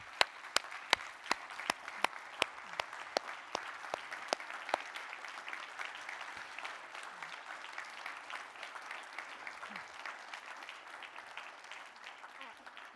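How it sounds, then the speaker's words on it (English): A church congregation applauds together during a worship service, steady dense clapping with sharp individual claps standing out early, gradually thinning and softening toward the end. "Can we give them a big round of applause together in the church?"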